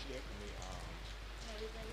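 Steady rain falls at an outdoor athletics meet, an even wash of patter that runs unbroken throughout with faint voices beneath it.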